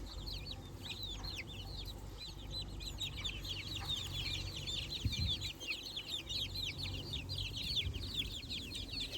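Free-range village chicks peck at scattered feed while cheeping constantly in a dense, high-pitched chorus over a low background rumble, with an occasional louder thump nearby.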